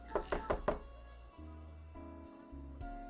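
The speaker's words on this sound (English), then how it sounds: "That was the secret knock." Four quick, evenly spaced knocks on a door from the video game NORCO, sounding close and crisp, followed by low humming tones and background hum with no talking.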